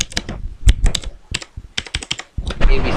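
A custom watermark is typed on a computer keyboard in quick, close, loud bursts of key clicks with brief pauses between.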